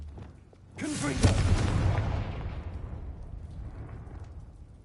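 A Confringo fire spell blast in Hogwarts Legacy, a sudden loud whooshing burst that swells and then fades away over a few seconds, heard alone without talk.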